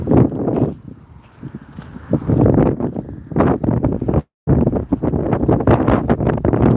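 Gusty wind buffets an outdoor microphone in loud, rumbling bursts, with one brief dropout partway through and no voices heard.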